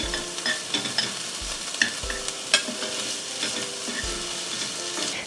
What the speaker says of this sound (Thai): ให้เอาขิงลงไปผัดด้วยกัน